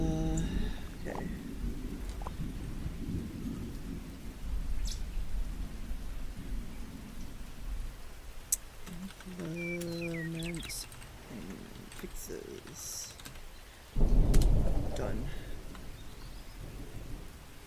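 A rainy-day thunderstorm: steady rain hiss runs throughout with low rumbles of thunder, including a louder roll near the end, while a person talks and other indoor noises come and go.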